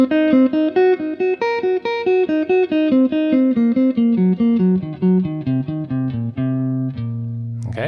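Guitar plays a half-diminished arpeggio pattern, a steady run of clear plucked single notes stepping through chord tones in even rhythm, ending on a sustained lower note with a brief scrape.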